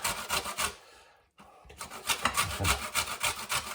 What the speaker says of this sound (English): that other little grater I've got, that's quite good for zest and stuff